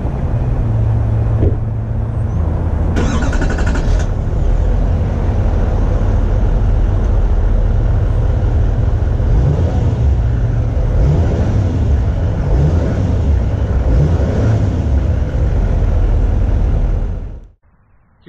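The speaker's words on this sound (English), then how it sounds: "I'm gonna give you an exhaust note" A 2017 Chevrolet Silverado 3500 LTZ pickup runs with a steady, deep exhaust rumble close by for about seventeen seconds, holding a fairly even level before cutting off abruptly.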